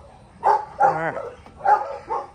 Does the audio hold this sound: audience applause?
no